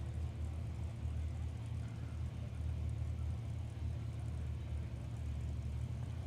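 Low, steady rumbling idle of a drag racing car engine lined up at the start line at Willowbank Raceway, a deep continuous drone heard from some distance without talking.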